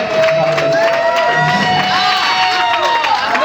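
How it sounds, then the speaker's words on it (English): Crowd clapping and cheering fill the space at a steady, loud level, with a sustained tonal whine running over the applause. "And they're clapping because they hate me"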